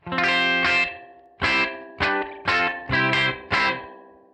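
An electric guitar through a spring reverb effect plays six chords in a loose rhythm, each ringing out with a wet, washy tail, the last decaying slowly.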